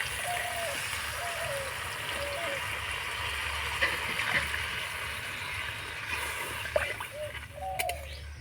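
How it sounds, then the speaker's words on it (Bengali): Water pours into a pan of spiced, fried-down curry masala with a soft, steady gushing and splashing that runs throughout, fairly quiet and with no talk over it. "এবার দিয়ে দেবো আমি এখানে পরিমাণ মতন জল"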